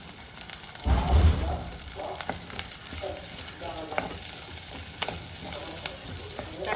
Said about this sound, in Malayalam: ചെറിയ ഉള്ളി ഇട്ട് നന്നായിട്ട് ഇളക്കണം